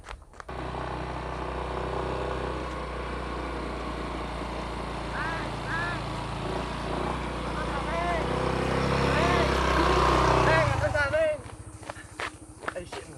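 A motorcycle engine drones loud and steady for about eleven seconds under people talking, then cuts off abruptly, leaving only scattered knocks and faint sounds.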